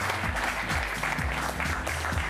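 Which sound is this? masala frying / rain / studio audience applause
studio audience applause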